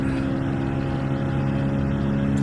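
Harsh, droning car engine from the racing game Gran Turismo 7, a steady buzzing hum held at a constant pitch for a couple of seconds with no pauses, loud and close.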